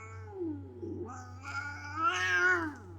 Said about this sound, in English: Oh, you're on my lap, cat.